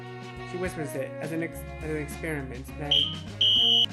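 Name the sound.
fire alarm going off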